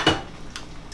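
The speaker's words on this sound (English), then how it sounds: "Let me go ahead and grab another pan" A heavy Caraway pan lifted and handled, giving one sharp metallic clank near the start followed by a couple of lighter knocks, close and alone.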